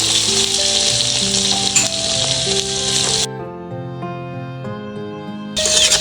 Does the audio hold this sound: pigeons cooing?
no